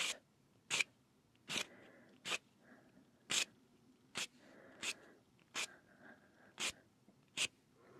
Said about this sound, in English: There's only a couple of hangnails I need to remove.